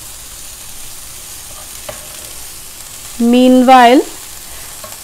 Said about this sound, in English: I will saute it for hardly 1 to 2 minutes.